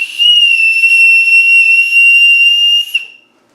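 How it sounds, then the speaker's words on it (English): A small wrist-clip whistle blown in one long, very loud, piercing shrill blast lasting about three seconds, then cutting off abruptly into silence. "So it is a whistle. Okay. And it is pretty loud."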